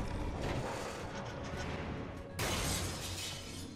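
A stained glass eyeball shatters in The Last Guardian, a loud breaking crash that bursts in partway through over a dense, rumbling game soundscape.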